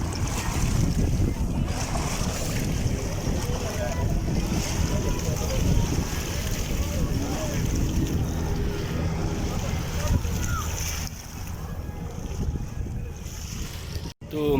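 Boats and jet skis run on Attabad Lake in northern Pakistan, a constant engine and water rumble mixed with wind buffeting the microphone while a person talks throughout.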